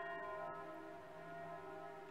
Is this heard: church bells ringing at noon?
yes